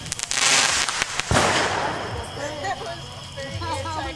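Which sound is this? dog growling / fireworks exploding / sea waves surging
fireworks exploding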